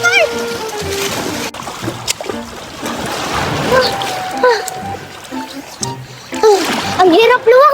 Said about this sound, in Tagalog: Ang sarap dito maligo sa dagat at masaya.